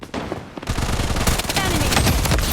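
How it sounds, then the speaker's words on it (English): Rapid bursts of automatic gunfire in the shooter game Blood Strike, dense and loud, starting after a brief quieter moment and continuing steadily to the end, with a faint voice callout near the start. "Taking fire!"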